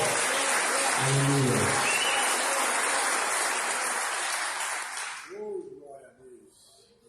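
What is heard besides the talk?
congregation applauding in church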